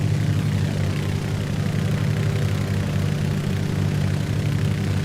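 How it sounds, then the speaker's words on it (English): Vintage aircraft engines drone in Microsoft Flight Simulator during a coastal flight, a loud, steady propeller hum with a strong low throb that holds evenly throughout, alone and without talk. "The engines actually do sound good in these."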